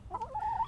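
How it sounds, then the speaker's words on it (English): An old hen on a homestead gives a short, close cluck with a rising and warbling pitch over faint background noise. "She's an old chicken"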